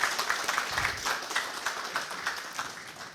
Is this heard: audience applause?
yes